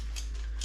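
A pepper grinder cracks fresh pepper over a simple dish seasoned with garlic and balsamic, giving a few short dry crunching twists up close.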